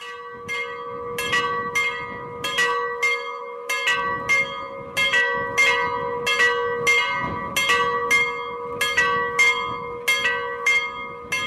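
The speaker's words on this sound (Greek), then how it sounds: "Οι καμπάνες καλούν τον κόσμο στην πλατεία της χώρας" Church bells ring at midday on Holy Thursday on Patmos, Greece, with loud, repeated clanging strokes in a steady, uneven rhythm over a hum of background noise.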